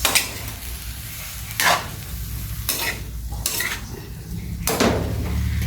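A spoon scrapes and stirs adobong sitaw in a sizzling pan, with sharp metallic clanks against the pan every second or so over a constant close frying hiss, and no talking.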